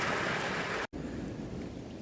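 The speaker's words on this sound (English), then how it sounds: "we got a little bit of a break in the rain here" Steady rain falls outside a house in the Hudson Valley, New York, a dense even hiss broken by one brief dropout, with no voices.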